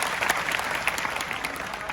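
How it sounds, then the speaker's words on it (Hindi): Applause from a large student audience at a college lecture hall, a steady dense patter of clapping with scattered sharper claps, moderately loud and continuous for a couple of seconds. "ताली बजाओ।"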